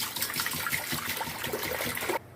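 Water pouring steadily into a pot on a stove, three liters being added for boiling, a continuous close splashing gush that stops abruptly at the end.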